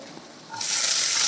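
Finely chopped ginger and garlic hit hot oil for a baby corn and vegetable dish. A quiet moment gives way to a sudden loud, close sizzle that holds steady to the end.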